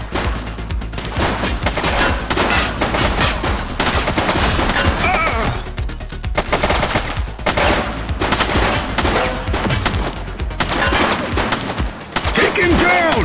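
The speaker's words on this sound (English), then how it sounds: "He's shooting!" Rapid gunfire fills a firefight in the police video game The Precinct, with dense bursts and shots echoing continuously and loud throughout, and voices shouting now and then underneath.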